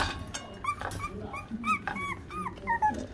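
A Boston Terrier puppy cries close up, a string of high, wavering whimpers and yelps with soft snuffling between them, several distinct cries over a few seconds.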